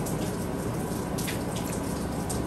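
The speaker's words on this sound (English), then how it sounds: "Right now we got a little bit of rain" Light rain falling outdoors in the Bahamas, a close, continuous patter of drops with a few brighter taps rising above the steady wash, with no talking.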